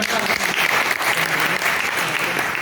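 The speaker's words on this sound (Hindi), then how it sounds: "इनके लिए एक बार फिर आप लोग तालियां बजाएं।" Dense, steady audience applause at a closing ceremony marking a revolutionary martyr's commemoration day, loud and close, filling the whole stretch with no pause.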